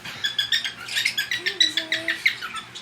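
A female cockatiel vocalizes in rapid, evenly spaced chirps, close and moderately loud, with a brief whistled glide in the middle of the run.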